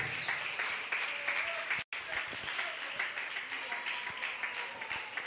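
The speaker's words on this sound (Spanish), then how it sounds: "Alguien aplauda la gloria de Dios esta noche." A church congregation applauds during a prophetic sermon, a steady, fairly soft patter of many hands clapping with a brief dropout partway through and faint voices mixed in.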